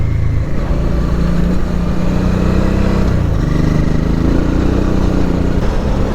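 A Honda Transalp 650 motorcycle rides over a dirt track. Its engine gives a steady, close droning hum with slight shifts in pitch, and no one speaks.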